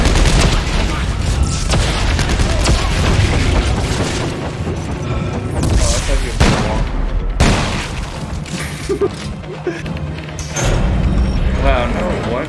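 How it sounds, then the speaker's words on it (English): A grenade explodes amid a combat video game firefight, with heavy booms layered over dense, continuous gunfire, loud and close, and voices talking over the din. "Oh, grenade!"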